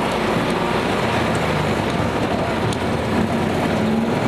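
A WALL-E vehicle pulls up a road in first gear, high range, giving a steady, continuous broadband drone of engine and rolling noise with no break or rise in level.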